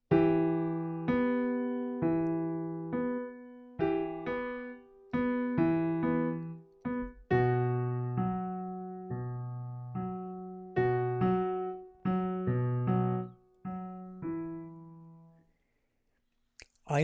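Solo piano plays a short syncopated rhythm in quarter and eighth notes, a clear sequence of struck chords and notes with held tones between, ending in a brief silence.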